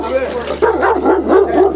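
A dog barks and yips close by during a tense police confrontation, with short rising and falling cries, while people talk loudly over it.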